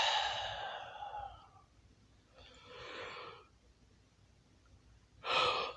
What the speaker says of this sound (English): That yawn, I don't know where it came from.